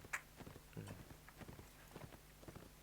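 Horse hooves clip-clop in Mount and Blade Warband, a run of light, evenly spaced hoof beats at close range with no talk over them, plus a brief sharp accent near the start.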